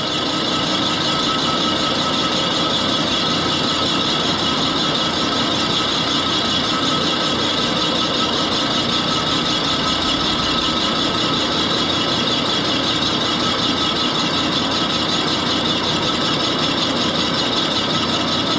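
Axelson lathe boring out an aluminum Harley Davidson cylinder with cast iron spots, a steady loud grinding, rasping cut that runs continuously without pause, no talk over it.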